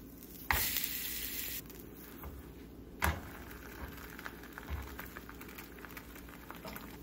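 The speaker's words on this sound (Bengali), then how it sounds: "পরোটাগুলো খালি ভেজে নেব। এগুলো ভাজতেও বেশি টাইম লাগে না, তেল টেল তো দিতেই হয় না, খালি কড়াইতে দাও আর একটু সেঁকে নাও।" Parathas are dry-roasted in an oil-free kadai, a short burst of soft hiss followed by scattered light clicks and taps, faint and close, with no talking.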